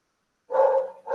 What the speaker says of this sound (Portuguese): O cachorro aqui está só latindo, chegou um gato.